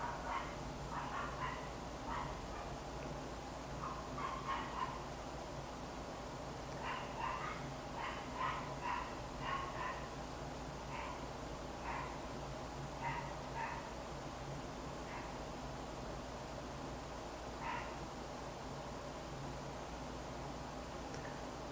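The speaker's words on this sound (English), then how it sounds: "My dogs are barking." Faint, distant dogs barking in scattered bursts of short yaps over a steady low background hum, with no talk.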